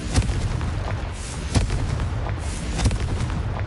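Confringo fire blast spells exploding in the Hogwarts Legacy video game: three loud booming blasts at irregular intervals over a steady rumbling battle background, with no talk.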